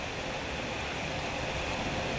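Heavy rain pours down in Savannakhet as a dense, even hiss that stays loud and constant from start to finish, with no voices.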